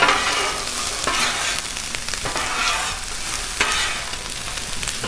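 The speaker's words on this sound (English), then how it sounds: "Let's mix it up again." Cajun-seasoned shrimp, smoked sausage and onions sizzle and crackle steadily on a hot Blackstone griddle, with scraping spatula stirs cutting through the frying at close range, no talk.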